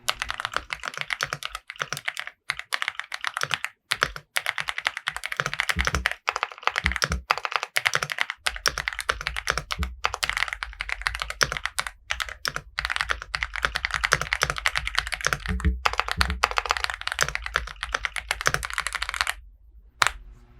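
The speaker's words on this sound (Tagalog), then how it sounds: "this is the sample, the sound of Aula F99" Rapid, steady typing on an Aula F99 mechanical keyboard, a tenkeyless-style board without a numpad, with dense clacking keystrokes running continuously and close up, then stopping abruptly near the end.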